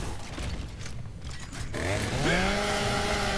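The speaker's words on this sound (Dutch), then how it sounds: "En er gaat er eentje gezaagd worden." Chainsaw revving up and grinding in the Gears of War Ultimate Edition beta, a loud sustained buzzing roar that kicks in partway through over earlier game noise and climbs in pitch as it bites into an enemy.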